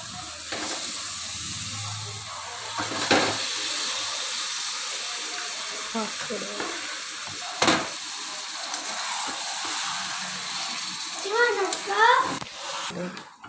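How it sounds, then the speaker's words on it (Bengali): Chicken hisses and sizzles as it drops into hot oil in a pan, a steady steamy frying sound with a few louder bursts and occasional clinks, while someone talks over it. "এর মধ্যে যখনই তেল ছেড়ে এসেছে, এবার আমরা চিকেনটা এর মধ্যে দিয়ে দেব।"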